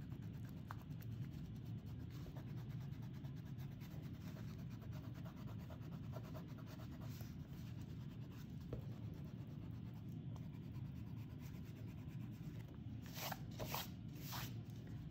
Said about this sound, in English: Now, with your eraser, you're going to rub out your grey lead markings from earlier.